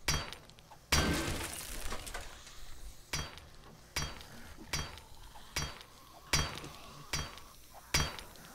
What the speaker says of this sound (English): You get a lot of iron from smashing those desks